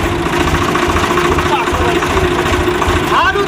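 A tractor engine chugs loudly and steadily close by in a fast, rough rhythm, with people talking over it.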